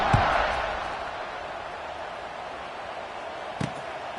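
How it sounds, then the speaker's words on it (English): Stadium crowd at a college football game, Louisville against Boston College, buzzing steadily as a continuous distant roar after a score, with a brief louder burst near the end. "this crowd is buzzing after that last score"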